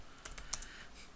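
Computer keyboard typing a short command, a few crisp, close key clicks in quick succession over a quiet room, with no voices.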